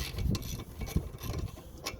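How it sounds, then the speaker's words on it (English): Metallic ratcheting and clicking as a bolt is undone to remove the box from a Trikke, close-up, with a few irregular knocks and scrapes and no talk. "If you have to remove the box, you have to come here and undo this bolt."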